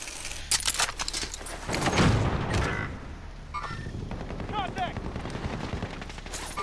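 Gunfire in Call of Duty: Modern Warfare, a series of rapid sharp shots from a pistol in bursts over the game's background rumble, with a few metallic clicks and chirps in between.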